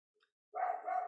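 A dog gives one sustained, fairly loud bark after a short quiet gap, with no voices.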